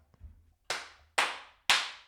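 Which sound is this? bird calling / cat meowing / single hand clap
single hand clap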